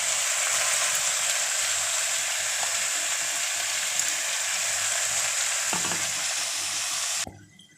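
Chilli powder and mustard fry in a pan with a strong continuous sizzle while a utensil scrapes and stirs in soft irregular strokes, close by, until the sound cuts off abruptly near the end; no one speaks.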